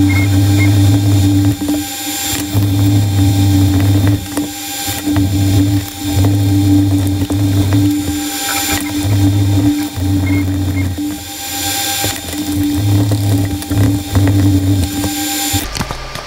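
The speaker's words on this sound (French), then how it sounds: "qu'il ne reste plus qu'à le passer au truc qui tourne là, au touret avec le disque à poncer" A bench grinder with a sanding disc drones loudly and steadily while polishing a Swiss army knife blade, its hum pulsing in regular surges every couple of seconds as the blade is worked against the disc.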